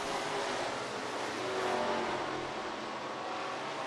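A race car engine at Rome Speedway drones steadily at a moderate distance, a sustained rumbling roar with slight rises in pitch as the car comes off a turn, without any talking.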